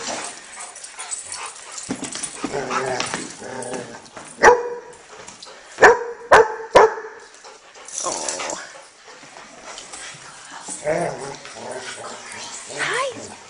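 A dog barks in a short run of sharp, close barks amid ongoing conversation, with soft whimpering around them.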